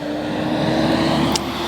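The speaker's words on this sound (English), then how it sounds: "now we get to hear the sounds of traffic" Steady traffic noise from the game Kingdom Hearts III, a continuous droning vehicle hum with a faint high tick near the end.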